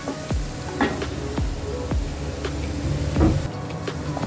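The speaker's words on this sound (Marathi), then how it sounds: "आणि थोडीशी हिंग टाकू आणि हिंग टाकून छान हे भाजून घ्यायचं" Asafoetida (hing) sizzles in hot oil in a pan alongside red chilies for Vidarbha-style kadhi gole, a steady crackling fry with scattered sharp pops throughout.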